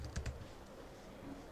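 Fingers typing on a computer keyboard, a quick pair of crisp key clicks near the start followed by quiet room tone, close and fairly soft.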